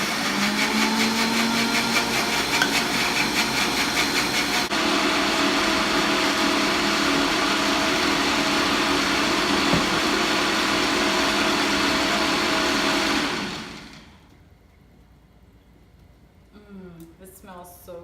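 A blender runs loud and steady, mixing homemade mayonnaise, a dense whirring motor roar that lasts about thirteen seconds and then cuts off abruptly, leaving quiet room sound with a few small clicks.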